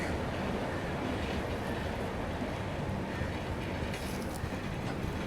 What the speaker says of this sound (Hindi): देखो काशी विश्वनाथ एक्सप्रेस तो रेस के लिए तैयार है। धीरे धीरे एक्सेलरेशन वो भी पकड़ रही है